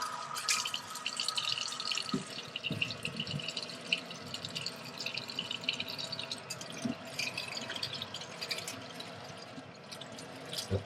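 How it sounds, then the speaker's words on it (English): Tap water runs and splashes steadily in a sink while trays of cilantro microgreens are washed with soap, with scattered drips and clinks throughout and no talking. "we're just washing with soap and water"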